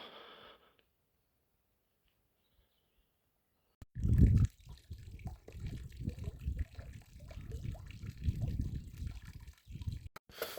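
Water from a mountain spring splashes and trickles close by, bursting in suddenly after several seconds of near silence and then continuing in uneven, gurgling surges.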